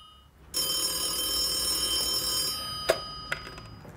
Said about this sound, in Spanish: un cacho que está sonando el teléfono.